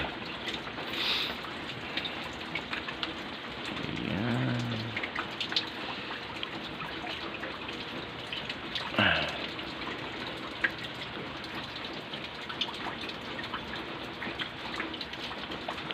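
Heavy rain pours steadily during Typhoon Crising, a continuous wash of falling water with drops hitting surfaces, broken by a few brief louder splashes and some faint voices in the background.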